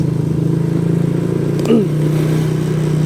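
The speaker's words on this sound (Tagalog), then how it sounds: "grabe yung vibration ng motor na to guys" Steady droning engine hum with buzzing vibration from a Honda Click 125i V3 scooter, its CVT drivetrain rattling and vibrating, held close and continuous with one brief rise in pitch partway through.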